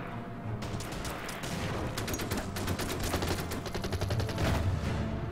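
Mobile artillery unit firing in the World War II strategy game Order of Battle, Smolensk 1943: a dense, continuous barrage of overlapping blasts and rapid gunfire, loud and sustained throughout with no voices.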